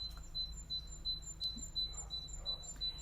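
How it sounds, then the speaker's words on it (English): A single bird sings repeated high, thin chirping phrases outdoors on a quiet morning, moderately near, over a low steady background hum with no talking. "That bird is really making its presence felt this morning"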